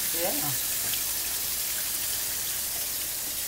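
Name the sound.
rinsing rice under running water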